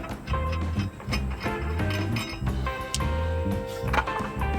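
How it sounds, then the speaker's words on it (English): Lug nuts come off the wheel hub of a Chevy Express 3500 1-ton van, heard as close metallic ratcheting clicks, clinks and clatter in irregular bursts with no talk. "Then you can go ahead and take your lug nuts off"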